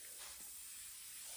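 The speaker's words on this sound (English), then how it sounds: "spray the underside" A spray bottle mists the underside of a small wig section in a steady, close, soft hiss that runs unbroken through the moment, with no talking.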